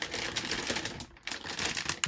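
A gold sealed foil bag crinkles as a box of Kobe 4 Protro sneakers is opened, with close, dense rustling and brief crackles and a short pause partway through.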